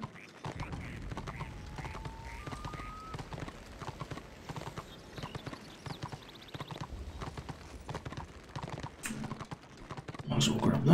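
Horse hooves clip-clop at a steady trot in a fantasy online role-playing game, a light rhythmic patter under game effects and soft keyboard clicks, with someone talking over it.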